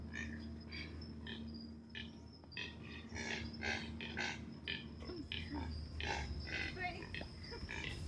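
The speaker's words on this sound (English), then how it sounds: "these astonishing sounds were coming from a kind of cormorant" Deep, rough grunting calls from several birds, sounding much like pigs, repeat irregularly at a distance over a steady insect-like hum.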